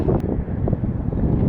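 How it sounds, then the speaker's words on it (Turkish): Strong wind buffeting the microphone outdoors on the coast at Mordoğan, Karaburun, a steady loud roar with gusty low rumble throughout and no talk. "Şu an ne kadar rüzgar var bilmiyorum."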